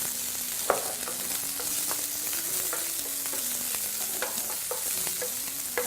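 Ginger, garlic and onions frying in a pan, a steady sizzle with frequent sharp clicks and scrapes of a utensil stirring, close and fairly even throughout.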